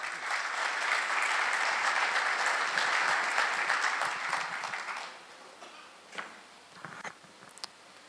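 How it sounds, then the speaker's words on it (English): A crowd applauds steadily for about five seconds, then the clapping thins out into a few scattered claps. "Give him a big round of applause."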